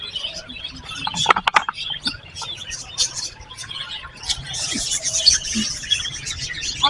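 A group of lovebirds fills the air with busy, high chirps and tweets close by, with a burst of sharp calls near the start and a dense twittering chorus toward the end.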